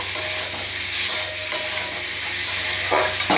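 Fried jackfruit being sautéed with raisins in a pan, a steady loud sizzle with repeated stirring scrapes running throughout, no voices.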